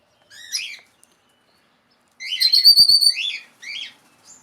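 Young red-rumped parrots giving short, high chattering calls in a few separate bursts, the longest in the middle, against otherwise quiet surroundings.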